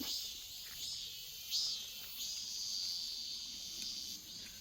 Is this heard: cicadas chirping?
yes